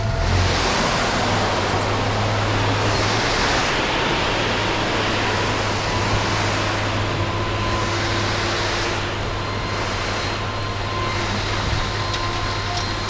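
Gravel tips off the tailgate of a trailer as it is pulled along a driveway, a steady broad rushing hiss that goes on without a break, with a low engine drone running underneath.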